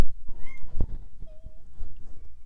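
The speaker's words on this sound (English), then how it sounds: "my cat is noisy" A cat meows a couple of times nearby, short rising calls against a quiet room with faint thumps.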